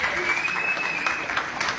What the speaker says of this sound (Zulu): uLindani Maphumulo ngicela imshayele ihlombe.